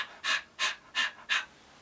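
A voice pants four times in a quick, even rhythm, short breathy puffs close and fairly soft, imitating the sound of panting, with no words.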